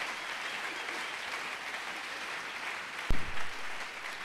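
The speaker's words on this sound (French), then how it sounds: "Est-ce que quelqu'un peut acclamer pour la parole de Mtu Dieu?" A church congregation breaks into steady applause, a dense, even wash of clapping filling the room and holding at a constant level throughout, with a brief thump near the end.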